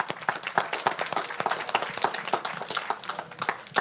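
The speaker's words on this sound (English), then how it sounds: "let's give her a round of applause" Audience applause at a live Star Trek trivia game show event in Las Vegas, a steady crowd of dense clapping that carries evenly throughout with no talk over it.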